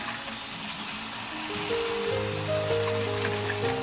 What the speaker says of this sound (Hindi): अब इसमें हम पानी ऐड कर देंगे